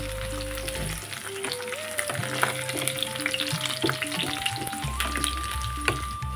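Onions and curry leaves frying in a pan for gongura chicken, a continuous close sizzle and crackle with occasional stirring scrapes, set against steady background music tones and no voices.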